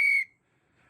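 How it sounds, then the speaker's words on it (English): A referee's whistle at a basketball game gives one short, loud, shrill blast that cuts off sharply, leaving near silence. "It's kind of hard to find a rhythm when the whistle is constantly blowing."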